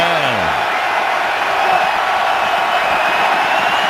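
A football stadium crowd at a Buccaneers at Packers game gives off a constant, loud roar of broad noise that holds steady throughout, with no distinct claps or single voices.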